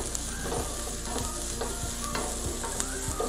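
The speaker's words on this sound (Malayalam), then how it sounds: "ആ, ഉള്ളി നല്ലപോലെ വഴണ്ട് വന്നിട്ടുണ്ട്" Shallots sautéing in a pan for beef kumbanadan, a dense continuous sizzle with repeated low knocks and scrapes of a stirring spoon, close and steady without talk.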